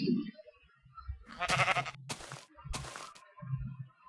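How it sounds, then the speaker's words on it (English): Several Minecraft sheep bleat in short, wavering calls, fairly close, with brief quiet gaps between them. "There's a sheep nearby."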